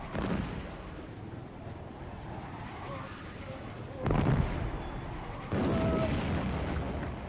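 Cannon artillery fire in a strategy war game set in Syria, several deep booming blasts over a continuous rumbling battle bed, the loudest two landing near the end.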